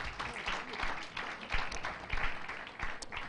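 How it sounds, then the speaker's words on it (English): Steady applause from a crowd at a project's grand finale event, a dense wash of clapping that holds at an even level for a few seconds. "let's give ourselves a round of applause once again"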